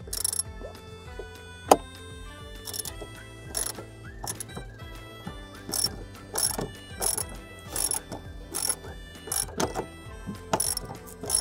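Ratchet loosening a seat bolt in a 2008 Honda Accord, with repeated short bursts of rapid pawl clicking in a steady rhythm, close and fairly loud, plus occasional metallic knocks.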